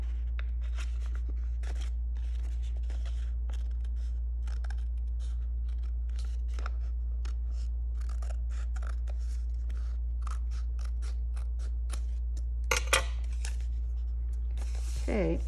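Scissors trim paper with a steady series of crisp snips, close and distinct over a low steady hum, with a brief rustle of paper near the end.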